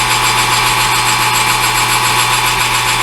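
A lathe spins an eBay headstock center while maroon Scotch-Brite polishes it, making a loud, steady motor hum and whine that stays constant throughout, with no talking.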